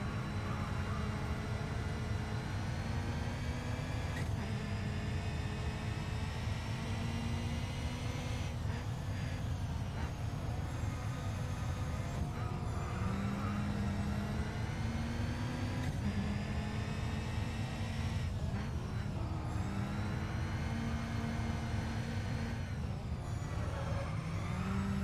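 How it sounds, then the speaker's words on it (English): A classic touring car's engine in the racing game Grid Autosport, played with a wheel and motion seat, drones loud and continuous with a choppy, helicopter-like thrum, its pitch rising and falling with shifts. "something is up with my sound. Sounds like I'm inside a helicopter."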